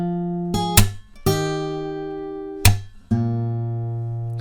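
Guitar picking pattern from the chorus, plucked notes ringing out over changing chord shapes, with several sharp string attacks, close and clear with no talk.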